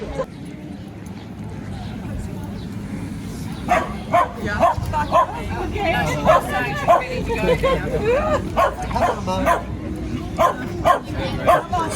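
Fluffy dogs barking at a market, a run of quick repeated yips and barks that starts a few seconds in and continues with market chatter and background hubbub.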